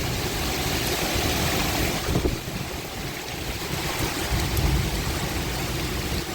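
Heavy rain pours down in a strong wind during a storm along the Narmada river near Jabalpur, a dense, steady roar of falling water with gusts, while thunder rumbles low underneath; no voices.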